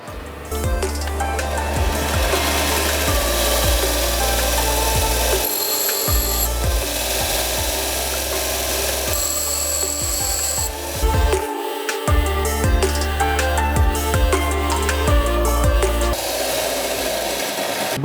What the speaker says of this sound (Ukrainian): давайте попробую невеличке сверло заточити, як він справляється